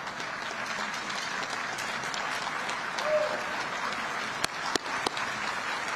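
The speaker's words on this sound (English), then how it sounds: "We applaud for you" Audience applause for the families and friends of honorees at the 2022 President's Meritorious Service Awards ceremony, a steady even clapping from a large room that runs the whole time, with a few sharper claps standing out near the end.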